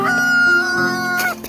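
Chickens in a coop give a brief, loud squawk with a harsh, honking, crow-like tone, close to the listener, lasting about a second and a half.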